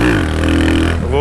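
A motorcycle engine roars loud and close during a wheelie, holding a steady revving drone before briefly stumbling and sputtering, then picking up again.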